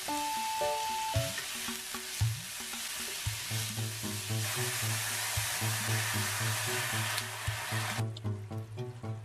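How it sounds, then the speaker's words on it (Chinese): Enoki mushrooms stir-fried with scallion and ginger in hot oil give a continuous frying sizzle with stirring scrapes, over a steady tonal background hum, then ease off slightly near the end. "加入金针菇炒熟后倒入一碗清水"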